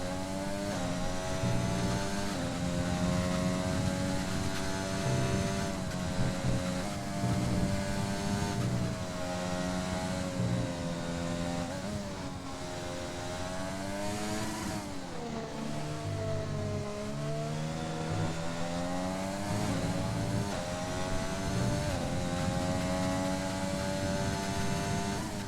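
A race car engine on a lap of the Austin circuit, a steady high-pitched drone that climbs and falls through gear changes, briefly dipping before pulling hard again, loud and continuous without talk.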